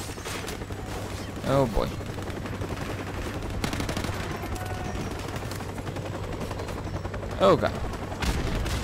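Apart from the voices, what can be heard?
gunfire in Modern Warfare Remastered video game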